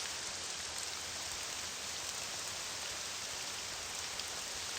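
Steady rain falls in Morrowind as an even, continuous hiss, faint and unbroken throughout with no other sounds on top.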